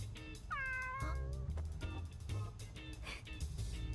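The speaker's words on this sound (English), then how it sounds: "Yes, Kitty's still here" A cat meows several times in quick succession, close and clear, with rising and falling cries over a low background rumble.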